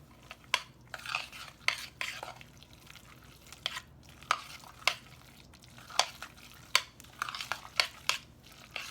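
Chickpea salad mixed in a bowl with a utensil, giving soft wet squelching stirs and regular clicks of the utensil against the bowl at close range.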